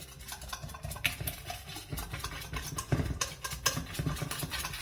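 Whisk beating chocolate lava cake batter with powdered sugar in a bowl, quick repeated scraping strokes in an uneven rhythm, close and fairly quiet, with no talking.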